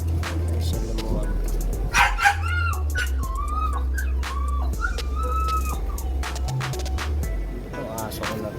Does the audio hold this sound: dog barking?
yes